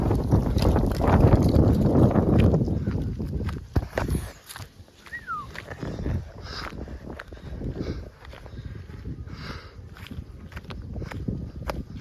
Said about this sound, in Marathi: आज जाम हवा आहे ना